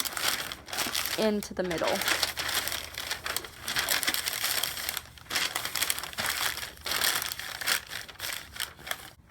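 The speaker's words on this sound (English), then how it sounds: "I just take a full sheet of paper just like this. I set it in the bottom and just press down and then fold all the corners" A full sheet of paper pressed into the bottom of a cockatiel cage and folded at the corners, crinkling and crumpling loudly in repeated close bursts while a person talks briefly.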